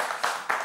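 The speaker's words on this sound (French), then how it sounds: "on peut l'applaudir" A brief burst of audience applause for a correct quiz answer, a dense patter of clapping with two louder accents, close and short.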